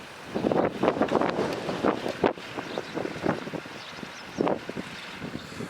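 Wind on an outdoor golf course buffeting the microphone, loud, rumbling gusts that swell and fade in uneven bursts against a steady airy rush.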